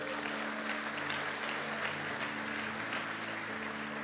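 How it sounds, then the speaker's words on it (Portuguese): A church congregation applauding during a Portuguese-language sermon, steady dense clapping held at an even level throughout, with a low hum beneath. "Você pode aplaudir o Senhor Jesus?"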